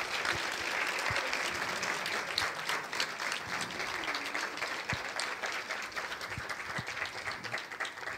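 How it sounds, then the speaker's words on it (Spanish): After a lecture on supermassive black holes, the audience gives a sustained round of applause, moderately loud and even, with a few sharper individual claps standing out over roughly eight seconds. "antes que nada me gustaría pedir un aplauso para Gastón"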